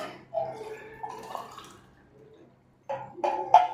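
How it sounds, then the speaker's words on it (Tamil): One tumbler of water trickles and splashes into a glass bowl in short bursts, with a quiet gap in the middle before the pouring resumes louder. "இந்த டம்ளரில் ஒரு டம்ளர் தண்ணி ஆட் பண்ணிக்கலாம்"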